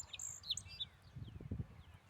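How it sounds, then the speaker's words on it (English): A small bird chirps faintly in a few short, high tweets against a quiet outdoor background with soft low rumbling. "Neil, Eli, Beverly, George, Ambrose, and the little bird is back."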